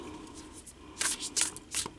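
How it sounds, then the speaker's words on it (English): Hebrunes reading cards being shuffled by hand, a few quick papery riffles and soft slaps in short bursts, close and fairly quiet, with no talking. "Keep shuffling."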